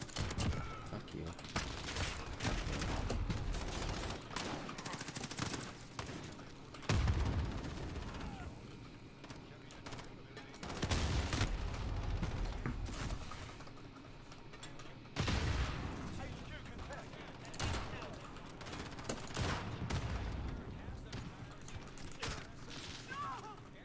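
Rapid bursts of gunfire from a shooter video game, loud and repeated in clusters with short pauses, over a steady game background bed.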